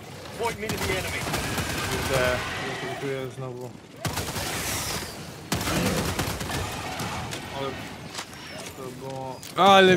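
Rapid bursts of gunfire from a squad-based sci-fi shooter game fill the mix, dense and continuous with short pauses, while players talk over it.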